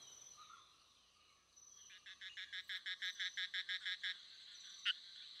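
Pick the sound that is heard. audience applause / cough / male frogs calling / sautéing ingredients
male frogs calling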